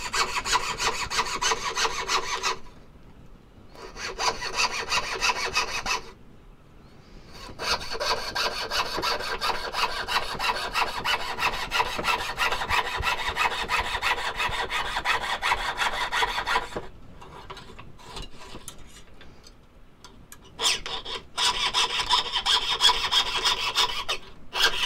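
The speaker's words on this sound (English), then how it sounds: "you can hear the different metals in them just by the tone they make whenever they cut" Metal spoons of different alloys being sawn through by hand, a steady rasping cut with loud continuous strokes broken by a few short pauses, close up and alone.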